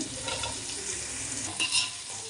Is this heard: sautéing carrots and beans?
yes